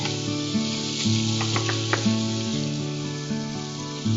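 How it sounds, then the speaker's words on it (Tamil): Four garlic cloves sizzle in melted butter in a pan, a steady close frying hiss that runs throughout over sustained tonal background music, with no talking. "சோ பட்டர் போட்டு பட்டர்ல வந்து ஒரு 4 பல்லு பூண்டு போட்டாங்க"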